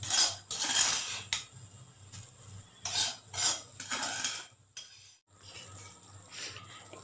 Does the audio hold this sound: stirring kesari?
yes